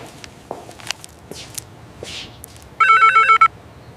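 A telephone rings in a short electronic trill burst, fairly loud against quiet room noise with a few scattered footsteps and clicks before it.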